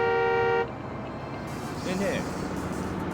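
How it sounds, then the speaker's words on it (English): A car horn honks in the video game Yakuza 5, a steady sustained toot at the start, then cuts off, leaving street ambience under a voice. "Honk at me all you want."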